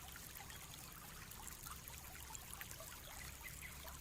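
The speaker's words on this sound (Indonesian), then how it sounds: "di kejauhan terdengar suara gemericik air mancur" Soft, steady trickling of fountain water near an ornate building with carved Arabic calligraphy walls, a faint continuous splashing with scattered droplet patter and no voices.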